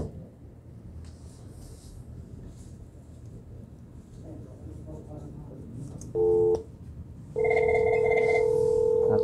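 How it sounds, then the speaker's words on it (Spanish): Cisco VoIP IP phones in a router lab being dialed, with room noise and murmuring voices before steady electronic ringing and busy-signal tones come in loud near the end. "Aquí ya se están marcando los teléfonos."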